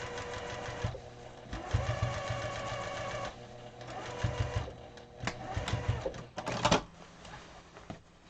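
Sewing machine stitching in the ditch on a pillow, a steady mechanical whirring hum in several bursts with brief pauses and small clunks, near and without talk.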